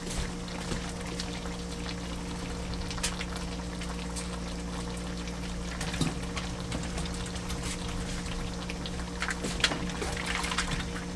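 Water trickles and pours into a simmering pot of kaldereta stew, a steady liquid gurgle over a low, constant hum, with small splashes and bubbling ticks scattered throughout.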